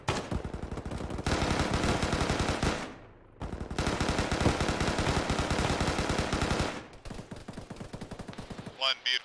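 Gunfire from a firefight in the ArmA video game: long bursts of automatic fire rattle loudly and close, then break off briefly before resuming, and faint radio-style voices come in near the end.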